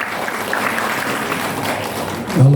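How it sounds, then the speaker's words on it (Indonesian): A church congregation at GBI Bukit Cimanggu City in Bogor applauds, a broad, sustained patter of many hands that swells slightly toward the end. "Tepuk tangan buat Tuhan kita."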